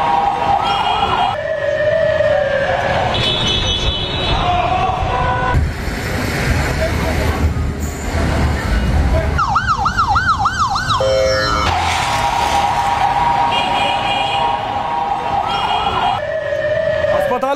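Ambulance sirens wailing at hospitals in Lebanon after pager blasts, several siren cycles rising and falling amid crowd noise and traffic, loud and near, with a voice talking over parts.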